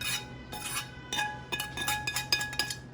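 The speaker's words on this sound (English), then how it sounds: "all we do is we stir this up just like that" Mac and cheese with chicken and jalapeños being stirred: a spoon scraping and clinking against the pot in a series of quick, uneven strokes, close and fairly quiet, with no talking.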